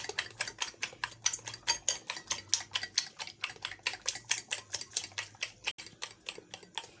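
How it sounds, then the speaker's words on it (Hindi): Eggs and sugar being beaten together in a bowl, a fast, steady run of sharp clicking whisk strokes against the sides, close and even with no talking. "ये हमने अंडे और चीनी को अच्छी तरह से मिक्स कर लिया है।"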